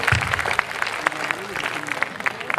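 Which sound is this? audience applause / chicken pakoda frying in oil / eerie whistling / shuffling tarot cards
audience applause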